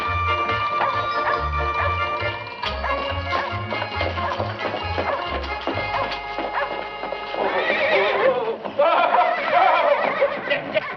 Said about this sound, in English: Your horse ran away again, Mrs. McGee.